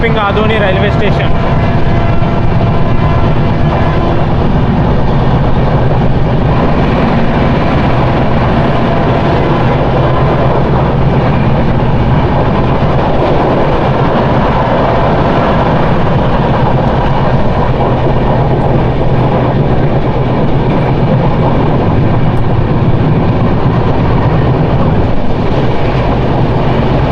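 Heard from on board, Garib Rath express 12736 runs through Adoni railway station without stopping, a loud sustained rumble and wheel rattle that holds steady throughout.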